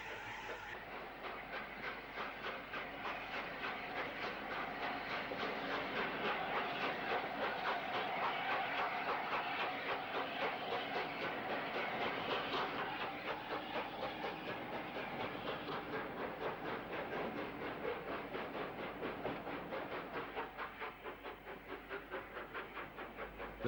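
LNER A4 steam locomotive Kingfisher running off shed toward Alexandra Bridge at Weymouth, a steady rolling rumble and hiss with rhythmic clickety-clack of wheels, holding at moderate distance throughout without voices.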